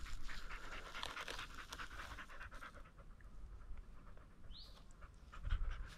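A dog pants in a forest during mushroom picking, quick rhythmic breaths heard faintly and close by. Birds chirp and there is light rustling, with no talking.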